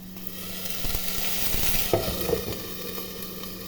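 Eggs fry in a pan with a steady, close sizzle, joined by a few soft scrapes and taps of a utensil stirring against the pan.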